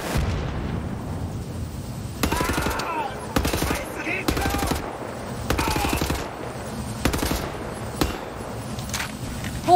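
Bursts of automatic gunfire and explosions from the game Wolfenstein: The New Order during the Gibraltar Bridge fight, arriving in several loud separated volleys over a steady rumbling background.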